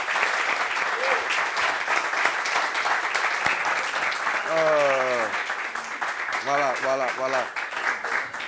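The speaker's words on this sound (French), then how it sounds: "Applaudissements pour elle, s'il vous plaît." Studio audience applause rolls on as continuous dense clapping, while a presenter speaks over it and a voice briefly cuts in toward the end.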